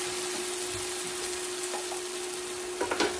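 Peanut butter chicken stir fry sizzles steadily in a hot wok, a dense continuous crackle with a faint steady hum, a few louder spits and clatters near the end, no voices.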